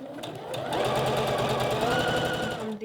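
Sewing machine stitching through layers of lace on a bra, a fast, even mechanical rattle that starts up, runs steadily for a couple of seconds close by, then stops.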